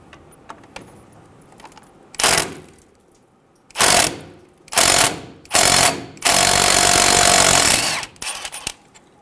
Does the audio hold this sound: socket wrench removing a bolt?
yes